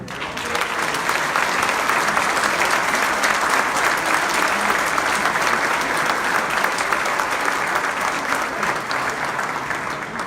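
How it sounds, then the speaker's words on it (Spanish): Academic audience applauding after a conference lecture given by a federal deputy in a university hall, a loud, dense, unbroken wave of clapping sustained for about ten seconds without speech. "Vamos a brindar un aplauso."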